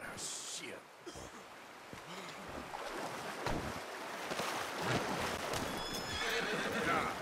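In Red Dead Redemption 2, a horse tumbles, whinnying and scrambling with thudding hooves amid busy game sound effects and a rushing ambient wash, while someone talks over it.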